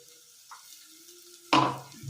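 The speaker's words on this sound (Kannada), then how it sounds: "ಸ್ವಲ್ಪ ಇಲ್ಲಿ ಒಗ್ಗರಣೆಗೆ ಹಾಕೊತಾ ಇದ್ದೀನಿ ನೋಡಿ" Mustard-seed tempering for melagu rasam hits hot oil with a sudden loud sizzling burst that crackles on and slowly fades, following a quiet stretch with faint kitchen clatter.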